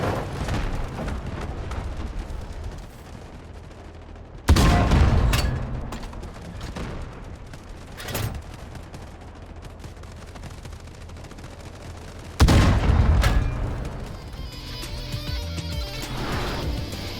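Tank cannon firing in the video game Delta Force Hawk Ops, two heavy booming shots several seconds apart over a steady background of battlefield rumble and distant gunfire.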